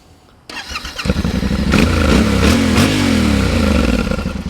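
A motorcycle with an aftermarket exhaust starts and revs, the throttle blipping up and down several times, loud and close, with no voices.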